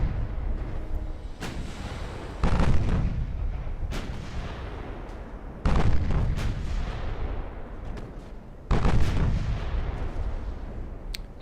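Heavy naval guns from a battleship in the Ultimate Admiral: Dreadnoughts game, including 5-inch secondary batteries, fire as three or four loud booming salvos, each rolling off into a long, dense rumble.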